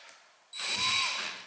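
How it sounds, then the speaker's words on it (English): After a quiet moment, a power drill whirs up sharply and grinds steadily through the wall of a Ford Transit van, loud and close. "we're gonna drill a hole"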